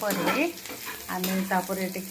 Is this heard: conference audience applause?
no